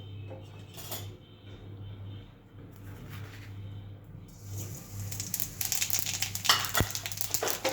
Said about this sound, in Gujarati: જીરું જો ક્રેકલ આવી રીતે થવા દેવાનું છે